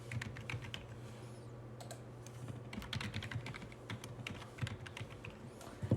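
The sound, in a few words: typing a password on a computer keyboard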